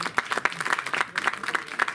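An audience at an award ceremony applauds with a short run of scattered, uneven claps, fairly close, with a faint murmur underneath.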